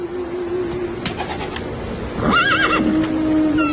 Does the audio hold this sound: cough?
no